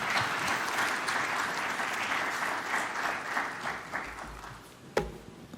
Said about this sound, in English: Can we please give him a big round of applause one more time?